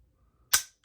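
A single sharp click from a gun with a gritty single-stage trigger being dry-fired, one short near crack standing alone against near silence.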